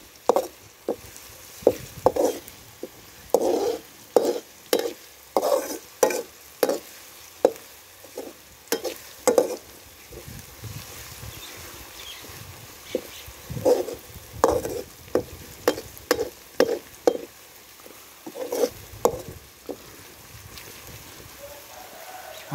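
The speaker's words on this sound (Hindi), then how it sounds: "अदरक लहसुन का पेस्ट 1 टीस्पून हम इसमें ऐड कर देंगे। बिस्मिल्लाह रहमान रहीम, और इसको भी हल्का सा तेल में फ्राई कर लेंगे प्याज के साथ ही।" Onion with ginger garlic paste frying in oil in a pan, steady sizzle under repeated scraping stir strokes of a spoon, close and moderately loud with no talk.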